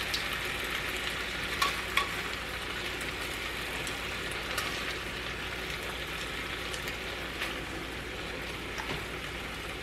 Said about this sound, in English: put the onions and garlic in the skillet and let it cook for just a few minutes